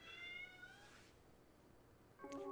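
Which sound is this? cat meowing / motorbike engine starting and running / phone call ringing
cat meowing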